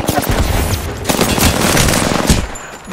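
Sustained automatic gunfire from an Apex Legends firefight, dense rapid bursts running nearly continuously and loud throughout, with sharp shot transients over a noisy battle background.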